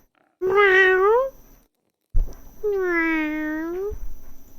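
A cat in the Pentiment video game meows twice, two drawn-out, rising-then-falling cries with a short silent gap between them, loud and close with no talk over them.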